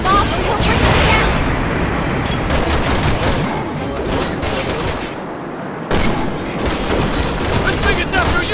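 Sustained gunfire against the Ustanak boss in Resident Evil 6, with dense rapid shots and booms running continuously under game music and effects, and a voice speaking over it.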